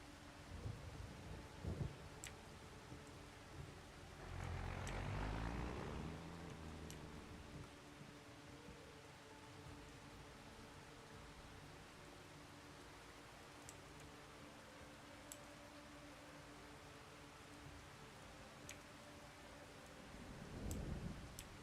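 Thunderstorm with rain in the Farming Simulator 25 video game: steady hiss of rainfall throughout, with low rumbles of thunder swelling early on and again near the end, and no talking.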